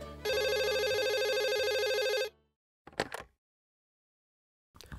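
A telephone rings at a children's helpline in Limburg, one loud, steady electronic trill lasting about two seconds, then silence broken by two brief clicks or handset noises.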